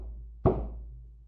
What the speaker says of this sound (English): a loud knock at the door woke me up